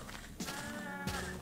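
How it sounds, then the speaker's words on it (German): A Minecraft cow gives two short, nasal moos close by, spaced about half a second apart, over a faint game background. "Da ist noch eine Kuh."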